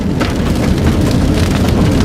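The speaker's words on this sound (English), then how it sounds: "And we're getting out of the rain." Heavy rain pours steadily during a tornado storm chase near Rozel, Kansas, a dense, loud hiss and patter over low rumbling that goes on without a break, with no voices.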